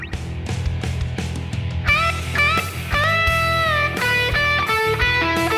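Electric guitar playing a minor pentatonic lick with string bends over a backing track, clear sustained notes with bends rising above steady rhythm-section accompaniment, loud and continuous.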